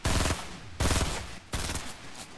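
Three loud bursts of rapid gunfire from the Fortnite video game, each a sharp volley that rattles briefly and decays before the next, spaced about three-quarters of a second apart with no talk.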